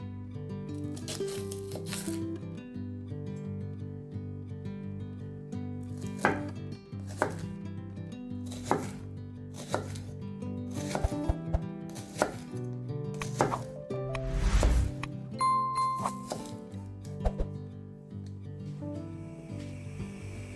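Knife chopping shallot on a board, a steady run of crisp close blade strikes with short pauses, loud and alone with a faint hum of music underneath.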